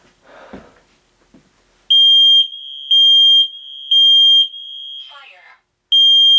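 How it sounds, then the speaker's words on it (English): A combined carbon monoxide and smoke alarm runs its test sequence: a loud, piercing electronic tone sounding in four regular pulses, with a brief spoken warning from the unit between them and a voice nearby at the start. "It says fire. Warning, carbon monoxide. Warning, carbon monoxide."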